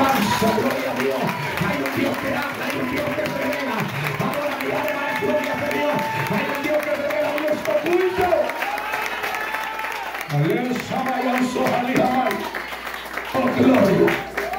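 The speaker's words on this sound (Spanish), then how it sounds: "Deme el aplauso al Señor." A congregation at an evangelical worship service applauds in a steady, dense wash of clapping that runs the whole stretch, with a voice calling out and praising over it.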